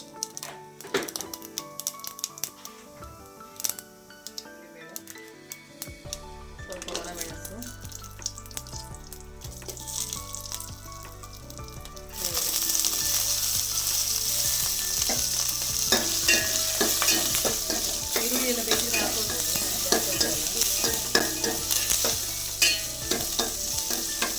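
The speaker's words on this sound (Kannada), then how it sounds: "ಸಾಸಿವೆ ಹುರಿದ ನಂತರ ಸ್ವಲ್ಪ ಉದ್ದಿನ ಬೇಳೆನ ಹಾಕ್ಕೊಳ್ತಾ ಇದ್ದೀನಿ" Mustard seeds crackle and pop in hot oil, and then urad dal is added for a tempering, which makes the sizzle much louder and denser. It keeps up a close, busy frying roar with sharp ticks scattered through it.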